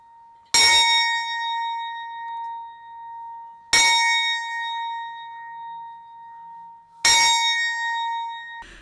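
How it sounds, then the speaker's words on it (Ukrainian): A deep memorial bell tolls three times at slow, even intervals in Ivano-Frankivsk, honoring fallen soldiers, each strike ringing out and fading before the next. No voices. "пролунав традиційний дзвін пам'яті у згадку про загиблих героїв"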